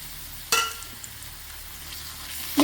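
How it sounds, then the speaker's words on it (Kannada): Seeds frying in a pan with onions and oil make a soft, steady sizzle, broken by a sharp clatter early on and another at the very end. "ಬೀಜವನ್ನು ಹಾಕಿ ಇದನ್ನು ಚೆನ್ನಾಗಿ ಹುರ್ಕೊಳ್ಬೇಕು."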